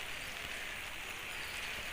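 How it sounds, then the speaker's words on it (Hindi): Light rain falls outdoors, seemingly on a rooftop, as a faint, steady, soft hiss with no distinct drops and no voices. "तो फिर से हल्की फुल्की बारिश हो रही है।"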